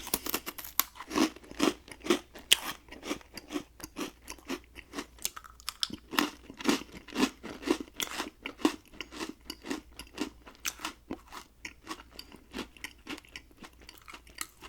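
Close, crisp crunching and chewing of pretzels, a steady run of sharp bites and grinding chews repeating throughout, loud and intimate with no talking.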